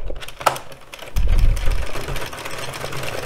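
An addi Express Kingsize knitting machine works a striped hat, its crank-driven carriage giving a steady, close mechanical clatter that starts after a brief pause and runs on continuously.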